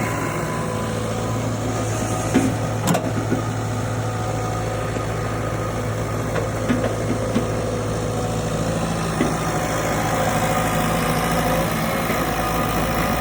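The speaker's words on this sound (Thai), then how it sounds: "เรื่องยนต์นิ่มนะครับผม ถึงจะเป็นคุณปูแต่ว่าคุณปู ยังฟิตยังแข็งแรงนะครับตัวนี้ครับผม" A Komatsu PC60 excavator engine runs at a steady idle, a low continuous rumble with mild vibration and a few faint clanks, close by and with no talk.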